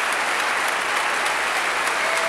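Steady, loud crowd applause fills a packed ice stadium of about 3,500 people at Eurovision 1992 in Malmö, a continuous dense clapping with no voices on top.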